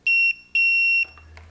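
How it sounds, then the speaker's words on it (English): A multimeter set to continuity gives two loud, clear electronic beeps, a short tone then a longer one, with no talk. "So anytime I hit continuity, you'll hear it beep."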